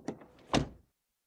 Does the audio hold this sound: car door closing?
yes